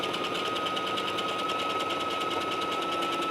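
Sewing machine stitching a 5/8 inch seam in knit fabric, a steady, close whir with fast, even needle ticking and a faint high motor whine, running alone.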